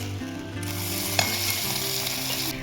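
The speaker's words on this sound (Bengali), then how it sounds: "ভালো করে ভেজে নেবো, একটু কাঁচা গন্ধ চলে যাওয়া পর্যন্ত" Masala paste with green chillies and garlic fries for a small-crab masala dish, giving a loud, steady close sizzle with a single sharp stirring clink partway through.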